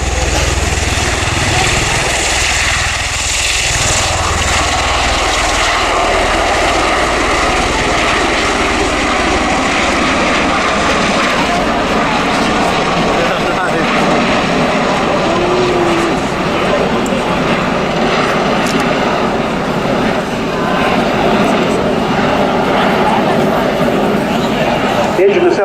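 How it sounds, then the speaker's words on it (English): A USAF CV-22B Osprey tiltrotor makes a tactical takeoff at an airshow, its nacelles tilted near vertical, loud heavy rotor and engine roar that holds steady and strong throughout, with crowd chatter faintly beneath. "The engine nacelles were at about 80 degrees for that tactical takeoff."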